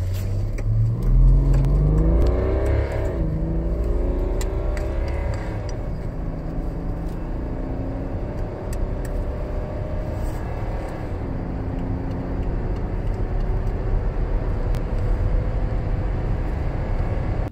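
A BMW F11 diesel estate drives across Berlin, its engine rising through a couple of gears at first, then settling into a steady cabin drone with road noise for the rest of the stretch.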